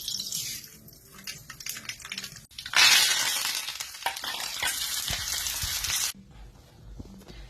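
Mustard seeds splutter and crackle in hot coconut oil for a curry, starting with light sizzling and then bursting into a loud, dense popping frenzy that stops abruptly.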